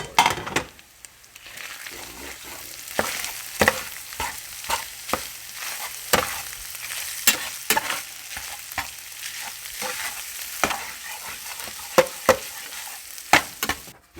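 Sweet Italian sausage stirred into hamburger and pepperoni in a frying pan, with a steady sizzle under repeated sharp scrapes and clacks of a utensil against the pan, close and alone.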